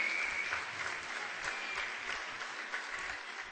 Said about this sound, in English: give a really big round of applause to our parents who are sitting on the sides here